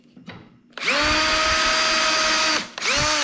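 A power drill driver bores a dimple into end grain while mounting a threaded tenon on a MikroRail, a loud steady whine of about two seconds, a brief stop, then the motor spins up again.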